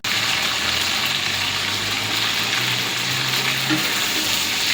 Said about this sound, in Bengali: দেখেন কি সুন্দর ভাজা হয়েছে।